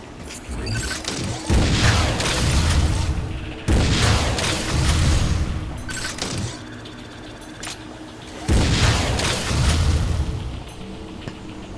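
Power bomb blasts in Metroid: Other M come as three big booming explosions, each a loud rolling surge lasting a couple of seconds, separated by quieter rumbling stretches, with no one talking.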